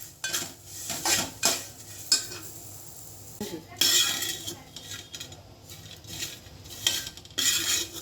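Ivy gourd (tondli) is stirred in a metal pan with a spoon, giving repeated close scrapes and clinks in bursts with a faint sizzle beneath.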